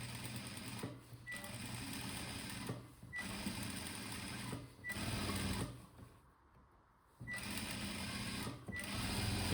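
An electric sewing machine stitches along the edge of a blouse in several bursts of fast, whirring needle clatter. Each run is separated by short pauses, and one longer quiet gap falls near the end.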